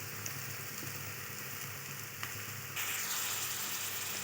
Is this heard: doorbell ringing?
no